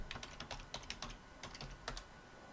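Keys clack on a computer keyboard as a password is typed into an Ubuntu Server 22.04 LTS login, a brisk, irregular run of close, crisp taps with short pauses between bursts.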